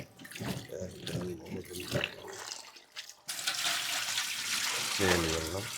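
Tap water gushes steadily while muddy Chinese potatoes are washed at a sink, the flow starting abruptly after a voice talks, and speech returns over the running water.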